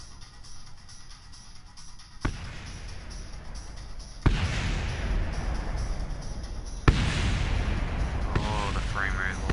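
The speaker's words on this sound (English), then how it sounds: "Hey, fireworks." Explosive bursts of in-game fireworks in Kerbal Space Program come as a few sudden loud booms, each followed by sustained crackling rumble that keeps building, with a voice briefly audible near the end.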